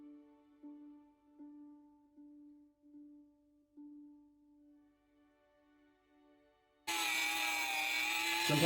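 A rotary polishing burr whines steadily while it polishes a VQ35DE lower intake plenum, the tone faltering briefly under load, and then a much louder, harsh grinding roar breaks in near the end.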